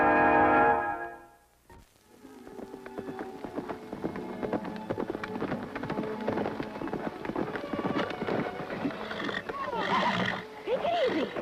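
A wild horse neighs and whinnies loudly amid hoofbeats and movement, with repeated calls building toward the end in an outdoor scene.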